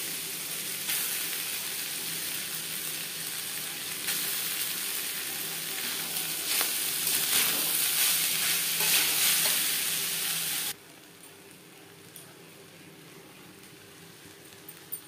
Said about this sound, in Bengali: অল্প অল্প করে ভাত মিক্স করতে থাকবো